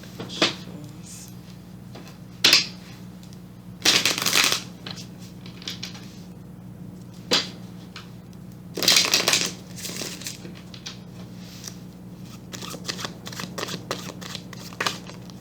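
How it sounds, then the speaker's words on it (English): Tarot cards are shuffled in short bursts of quick riffling and flicking, several separate shuffles with quiet pauses between, set against a low room hum. "Let's get a couple shuffles."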